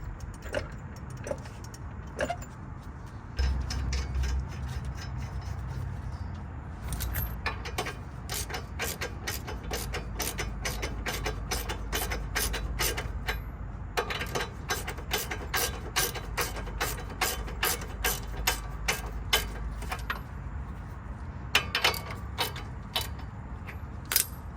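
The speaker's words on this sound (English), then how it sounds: "we'll put the castle nut so it's not gonna start coming apart." A hand ratchet tightens a castle nut on a Chevrolet Tahoe's suspension during a drop install, giving long runs of rapid, close clicking pawl strokes in steady bursts over a quiet shop background.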